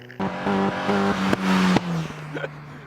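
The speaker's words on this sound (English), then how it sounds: "Accelerating round through a little chicane, changing gear, blipping the throttle" A Caterham sports car accelerates through a chicane on a track, its engine revving hard in rising steps as gears change, with quick throttle blips between shifts, loud and close.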